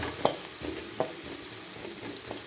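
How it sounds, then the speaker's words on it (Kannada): Potatoes frying in a pan for a village-style egg burji, a quiet steady sizzle broken by a few sharp stirring clicks, with no talk. "ಬಟಾಟೆ ಫ್ರೈ ಮಾಡಿದೆ"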